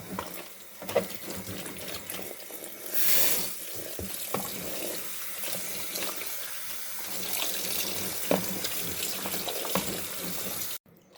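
Salted cabbage for kimchi is rinsed under running tap water in a sink, a steady close rush of water with splashing and handling of the leaves throughout.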